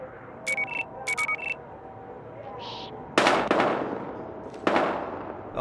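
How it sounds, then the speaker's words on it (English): Gunfire in the video game Battlefield Hardline: several sharp, loud cracks ring out in the second half, preceded by a few short electronic beeps and tones. "We've got gunshots."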